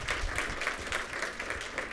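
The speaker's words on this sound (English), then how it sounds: "a huge round of thank you, a round of applause" Brief, steady audience applause at a regional planning speaker series talk, a moderate wash of many hands clapping continuously at middle distance.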